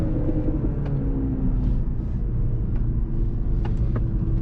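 Steady engine rumble of a 2024 Mercedes-AMG C63 S with a 2-liter engine while driving, a continuous low drone inside the car with faint ticks and clicks, no talking.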